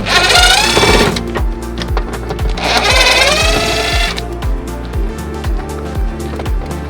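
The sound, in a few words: power screwdriver removing Phillips screws from Jeep Cherokee speaker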